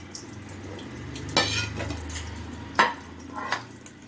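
An inverted pan holding an eggless, ovenless custard sponge cake gets tapped to release it: three separate knocks on the metal, the first two sharper and the last softer, over quiet kitchen background.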